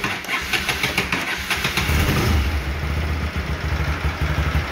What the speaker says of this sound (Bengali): তো আরেকবার স্টার্ট করা যাক